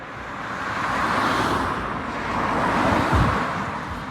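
A Mercedes-AMG A35 drives past on a road among other cars, its engine and tyre noise swelling and fading twice, ending with a louder close rumble.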